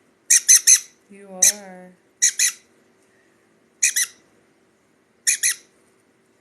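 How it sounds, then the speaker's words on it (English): A sun conure chick gives a series of short, loud squawks in rapid bursts, separated by pauses, with a brief person's voice murmuring between the calls. "He's a SunConure."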